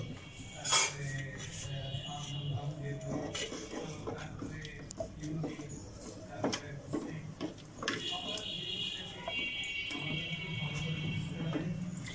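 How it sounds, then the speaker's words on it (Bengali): Beef haleem is stirred slowly in a pot, with soft scrapes and metallic clinks of a spoon against the pot recurring at a leisurely pace, faint and close. "আস্তে আস্তে নাড়া দিয়ে এটা ভালো করে মিশাই দিতে হবে"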